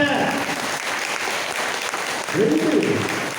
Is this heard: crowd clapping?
yes